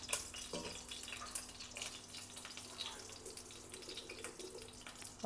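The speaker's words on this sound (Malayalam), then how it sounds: "ആവശ്യത്തിന് മാത്രം വെള്ളം ഒഴിക്കാം" Water is poured into an earthen pot of ginger curry, a soft, continuous trickle and splash with a few brief clinks in a quiet kitchen.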